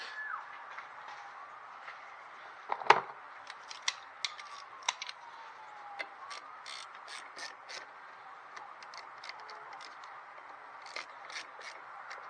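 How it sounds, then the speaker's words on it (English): Tightening a nut and Allen bolts while mounting a catch can on a Ford Taurus SHO, with faint metallic ratcheting clicks, light scrapes and one sharp clank close by, spread unevenly across a quiet stretch. "All I need to do is tighten up this nut right here, tighten up these two Allen keys right here"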